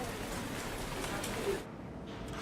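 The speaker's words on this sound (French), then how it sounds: "Parfois même, il pleut." Rain falling over Arles in winter: a dense, steady hiss of drops that fills the scene evenly, then drops off sharply partway through, leaving a quieter background.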